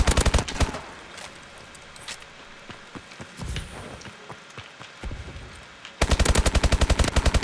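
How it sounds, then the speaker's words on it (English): Rapid automatic gunfire from a Call of Duty: Advanced Warfare firefight, loud bursts at the start and a sustained dense rattle at the end, with scattered shots and impacts in between. "Oh, that gunfight."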